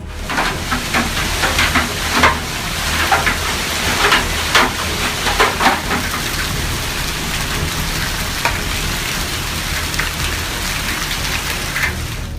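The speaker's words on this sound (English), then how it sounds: "Hailstorm in El Paso, Texas, July 10th, 2015." A hailstorm in El Paso, Texas pelts surfaces with a dense, hissing patter of impacts, with sharper clusters of hits over a constant loud wash.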